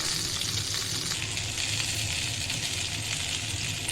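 Cauliflower florets fry and get stirred in a pan for a vegetarian cauliflower curry, giving a steady, loud broadband sizzle with faint scraping that runs unbroken throughout, with no talking.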